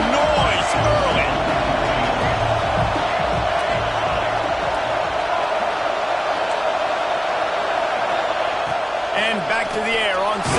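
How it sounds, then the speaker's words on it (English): A packed stadium crowd roars steadily at a Miami vs Alabama college football game, a dense, loud wash of cheering and whoops that holds throughout, with commentary voices mixed in. "This crowd bringing the energy and noise early."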